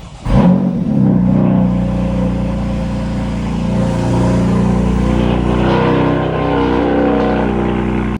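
Modified BMW M4 with an aftermarket exhaust, valves open, revving up sharply into a loud, sustained roar that holds steady before cutting off abruptly.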